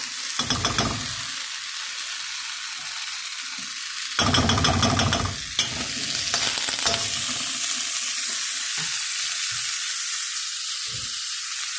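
Home fries crisp in butter and oil in a pan with a loud, continuous sizzle. Bursts of stirring and scraping rise sharply near the start and again around the middle, then the frying settles into an even hiss.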